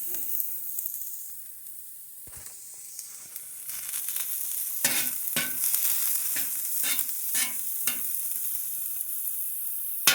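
Home-grown garden onions sauteing on high heat, a bright continuous hiss of frying overlaid with repeated sharp stirring clatters and scrapes that grow busier over time, close by.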